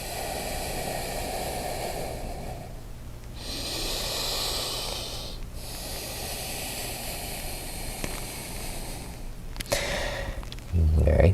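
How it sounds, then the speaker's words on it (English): Slow, deep yoga breaths drawn in and let out, long airy swells of inhaling and exhaling that rise and fall at a steady pace, close and fairly quiet against a soft background hiss. "Complete breaths in and complete breaths out."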